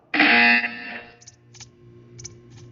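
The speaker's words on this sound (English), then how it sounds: "You will hear a buzzer" A loud harsh electronic buzzer in the Portal 2 video game sounds alone for about a second, followed by a few faint, short high electronic blips.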